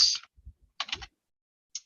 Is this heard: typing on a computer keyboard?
yes